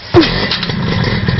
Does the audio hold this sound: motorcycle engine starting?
yes